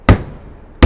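Two hard, close hammer blows land on parts seated into the recess of a K2 Sky Pilot snowboard, spaced under a second apart with a quiet gap between.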